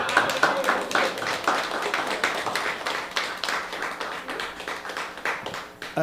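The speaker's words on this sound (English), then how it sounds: "I believe that deserves one more round of applause." Dense, steady applause from an open-mic story night audience, many hands clapping at a fairly even level for about six seconds with no pause.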